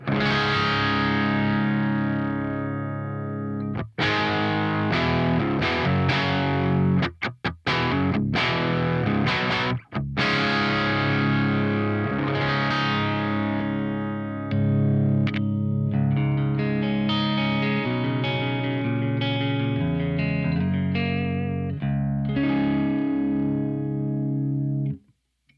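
Heavily distorted electric guitar chords ring out through a Soldano SLO100 high-gain amp, struck one after another with short breaks and sustained, saturated decays.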